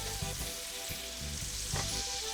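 Red snapper with a nut crust sizzles steadily in a cast iron pan, with low scraping and shifting knocks as the pan is moved around the burner.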